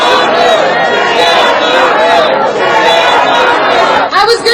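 Crowd at a Bernie Sanders rally in Seattle reacting with loud, continuous overlapping chatter and shouting voices, a dense murmur of many people filling the space throughout.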